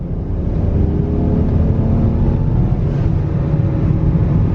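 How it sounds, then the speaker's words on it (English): A car with a stock blow-off valve pulls hard in third gear, its engine a steady loud drone close to the microphone throughout, with wind buffeting; the blow-off valve venting is not distinctly separable. "And whenever I do a pull and let off the gas, I can hear the blow-off valve too."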